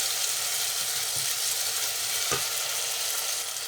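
Tomato puree frying in a pan for cucumber curry, a loud continuous sizzle with occasional spoon scrapes as it is stirred, no voices.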